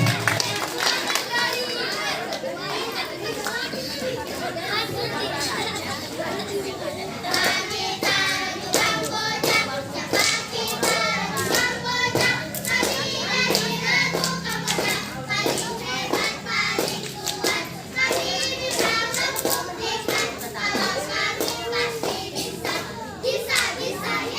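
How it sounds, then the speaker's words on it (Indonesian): Children clap and call out at a scout camp night event, a busy, continuous mix of hand claps, chatter and shouting children filling the whole stretch at steady, fairly loud level. "Beri tepuk tangan."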